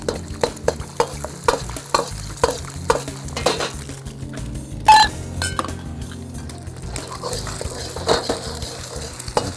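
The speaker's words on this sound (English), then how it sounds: "And just scramble those up." Eggs with fresh garlic are scrambled in a pan, a utensil clinking and scraping against the metal in quick repeated strokes over a faint sizzle, with no talk.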